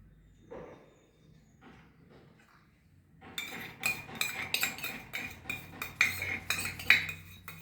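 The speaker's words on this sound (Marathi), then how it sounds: "तर हे सगळं हलवून मिक्स करून घेते" After a quiet start, a spoon clinks rapidly and repeatedly against a glass, stirring milk and rose syrup into a smoothie, with close, bright metallic taps.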